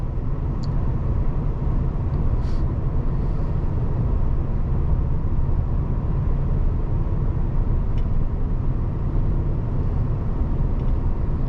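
Steady low road and tire rumble fills the cabin of a high-mileage 2014 Ford F150 running on off-road tires, a constant droning hum with no talking.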